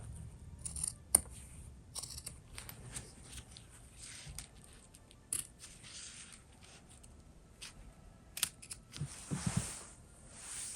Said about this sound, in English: I'm gonna cut the extra of the zipper.